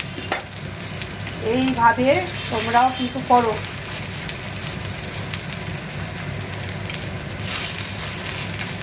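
Patishapta crepe frying in ghee in a pan gives a steady, low hiss throughout, with someone talking over it in the first part and the sizzle carrying on alone afterward.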